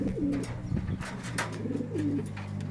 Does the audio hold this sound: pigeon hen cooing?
yes